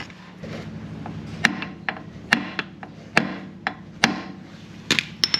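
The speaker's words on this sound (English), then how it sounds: "just find myself a nice little hammer" Small hammer tapping a flathead screwdriver to release cones during vehicle repairs, a dozen or so sharp metallic knocks at uneven intervals, close and loud, with light scraping between strikes.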